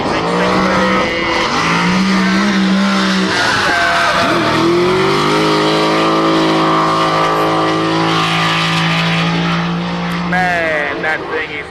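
A Nissan 180SX time attack car with an LS2 V8, eight throttle bodies and a T56 gearbox runs on a race track, its loud engine droning steadily with rising and falling revs, a commentator talking over it.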